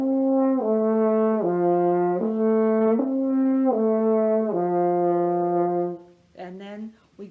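An F horn slurs through a slow descending chromatic pattern, sustained notes repeating in a steady stepwise cycle, clear and close, followed by a brief spoken voice at the end.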